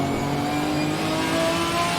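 Porsche race cars screaming past at full throttle at Silverstone in Assetto Corsa Competizione, a loud, sustained engine roar with rising pitch, close by and alone.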